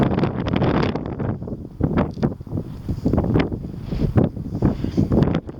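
Strong wind buffets a camera microphone outdoors at night, a loud continuous rumble with gusty surges and no speech.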